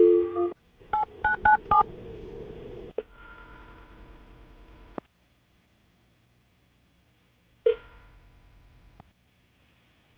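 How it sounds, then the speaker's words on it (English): A telephone number is dialed, a rapid run of touch-tone beeps followed by line tones and a ringback pattern, then near silence before another short tone; no talking. "I'm going to call her right now, see if we can get her on the phone"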